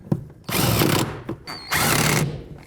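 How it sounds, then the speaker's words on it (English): Power tool snugging up the oxygen sensor bolts on a 2002–06 Toyota Camry, two close whirring bursts of about half a second each with short pauses and light tool clicks between them. "Now I'm gonna snug these up."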